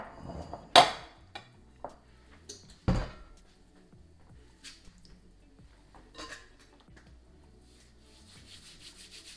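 Scone dough scooped from a bowl onto a floured counter, with a few scraping and clattering knocks of utensil against bowl, then soft rubbing and shuffling sounds, close and fairly quiet.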